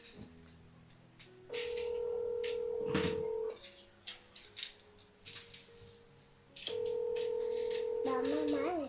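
A telephone gives steady dialing or ringback tones in two long stretches, with children's voices talking softly between them and a warbling ring at the end.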